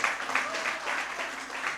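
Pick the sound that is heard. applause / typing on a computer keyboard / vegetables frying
applause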